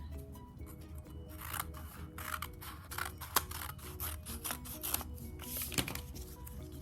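Paper being cut with scissors during a paper house craft: a run of crisp snipping cuts at close range, irregularly spaced with small clicks between, with no talk.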